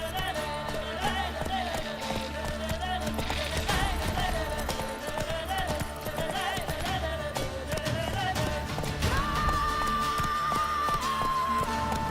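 Roach, a horse in The Witcher 3 video game, gallops with steady rhythmic hoof clip-clops under loud orchestral music, moderately close throughout.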